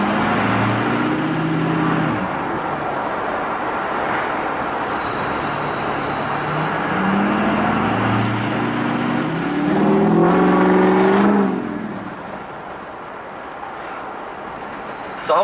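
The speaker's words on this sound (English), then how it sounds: "Let me get to a road where I can give it some gas." A truck fitted with O-ring cylinder heads accelerates on a road, its loud engine note rising through gear changes in steady, heavy bursts close to the microphone.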